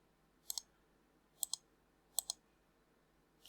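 Computer mouse clicks come in four quick pairs, crisp and close against a quiet background, spaced about a second apart, as price levels on a NASDAQ trading chart are locked one after another.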